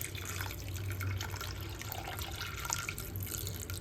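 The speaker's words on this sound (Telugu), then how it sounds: "ఇప్పుడు వాటర్ వేసుకుందాం." Water pouring from a tap or vessel into a cooking pot holding drumstick leaves and washed toor dal, a steady close splashing stream lasting a few seconds.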